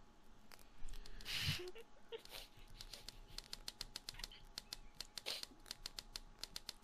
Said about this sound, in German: Wer tippt denn da auf einer Schreibmaschine?